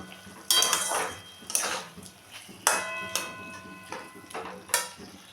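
Aloo posto with sugar being stirred in a pan, a metal spatula striking and scraping the pan in about five distinct ringing clanks with short gaps between, close and loud, with no talking.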